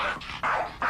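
A dog on a bed barks three times in quick succession, loud and close, each bark sharp and evenly spaced, with no other sound around.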